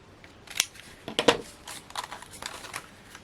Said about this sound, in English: let's snip this border out